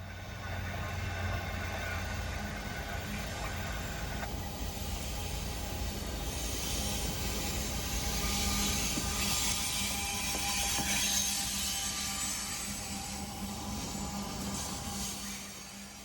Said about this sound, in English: Is it me, or are grain trains the loudest trains out there?